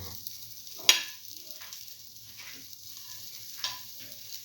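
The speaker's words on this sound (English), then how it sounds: "put in the fenugreek seed and the fennel seed" Fenugreek and fennel seeds sizzling in hot oil for a bottle gourd and split pigeon pea rice dish, with a soft steady frying hiss, a sharp clink near the start and another faint knock later, no talk.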